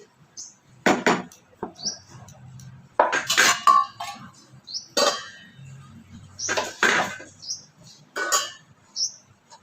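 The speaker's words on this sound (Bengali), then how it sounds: "একটু ঢাকা দিয়ে দিলাম, তাড়াতাড়ি তাহলে ফুটে যাবে" A lid goes onto a cooking pan of tilapia with a handful of sharp metallic clinks and clatters spread over several seconds, while faint bird chirps sound in the background.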